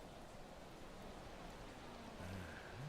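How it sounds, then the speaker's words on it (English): Rain falling in the video game Yakuza 4 Remastered, a soft, even hiss of steady rainfall, quiet and continuous, with faint low game tones surfacing toward the end. "That's raining again."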